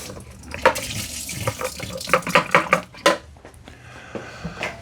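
Tap water runs and splashes as the dirty-water tank of a Bissell SpotBot Pet spot cleaner is rinsed out, with a steady hiss broken by several sharp plastic knocks and clatters near the sink.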